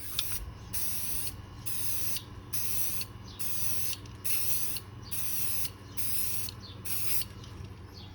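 Repeated bursts of hissing spray paint, about eight sprays in a steady rhythm with short pauses between, close and fairly loud.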